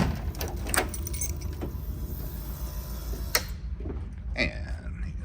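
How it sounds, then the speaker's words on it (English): The trunk of a 1981 Cadillac Eldorado is opened, with keys jangling, a latch click and the lid lifting amid light clattering over a steady low background rumble. "I'm going to go ahead and open the trunk for you"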